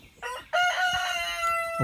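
A Swedish 55 rooster crows close by, with a brief lead-in call and then a long, loud, drawn-out cock-a-doodle-doo against a quiet backyard setting.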